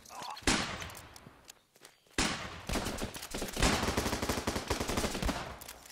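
Rapid bursts of rifle and machine-gun fire from the Running With Rifles shooter game, dense and loud with sharp repeated cracks after a brief lull, broken by a short gap, then sustained volleys.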